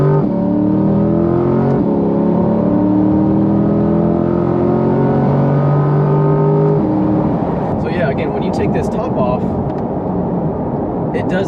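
Chevrolet C8 Corvette with its roof top removed, heard from inside the cabin as a loud, sustained exhaust drone that climbs in pitch under acceleration, with faint talk over it.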